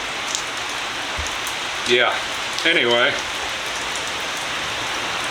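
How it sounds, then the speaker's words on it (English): Heavy rain pours beside a carport in a steady, dense hiss. A person briefly speaks partway through. "I'm just hoping that it doesn't rain too hard to where it puts my fire completely out."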